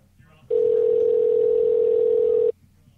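A steady telephone dial tone during a call holds at one level for about two seconds, then cuts off abruptly over a quiet room background.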